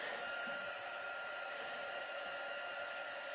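An electric heat tool is warming a paper craft piece from a Paper Pumpkin kit. Its airflow gives a steady, even whooshing hiss close to the microphone and runs alone for the whole moment, with no voices.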